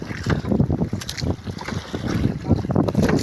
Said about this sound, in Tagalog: Sagwan-sagwan muna mga katrip para makapunta na sa spot.